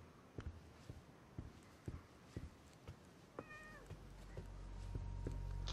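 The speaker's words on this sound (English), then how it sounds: "Kitty, Jack's kitty, room. Kitty" A cat meows once in The Medium horror adventure game, a short tonal call heard after a run of soft, evenly spaced footsteps, with a low ambient hum swelling underneath.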